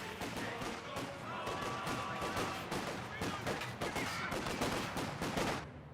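A squad exchanges gunfire with Volksgrenadier infantry in the WWII strategy game Company of Heroes 2, a steady clatter of rifle and machine-gun shots throughout, partly under a commentator's voice.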